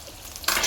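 Onion and garlic are stirred in a little cooking oil in a pan, with a quiet start and then a sudden bright, close sizzle and scrape for the final moment.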